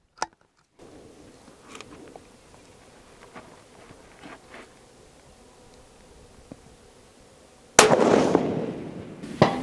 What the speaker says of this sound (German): ich schieße trotzdem jetzt einfach nochmal einen zweiten auf 400 Meter